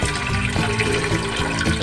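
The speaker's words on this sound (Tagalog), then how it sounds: "maglagay lang po tayo ng tubig dito sa ating kasarola" Water runs into a cooking pot being filled to boil tomato, ginger and onion for sinigang sa santol, a loud, steady gushing stream lasting the whole stretch.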